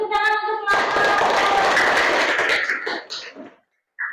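A presentation audience bursts into clapping that runs loud and steady for about two seconds, then thins to scattered claps and stops. Brief voiced sounds come just before the applause begins.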